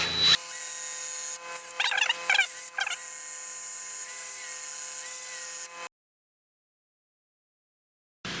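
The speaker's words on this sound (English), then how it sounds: "I can't get that thing to lock, so we're just gonna drill it." A power drill whirs loudly and steadily for several seconds, its pitch wavering slightly under load, then cuts off into silence, during a Dana 44 high steer install on a Pontiac Safari wagon.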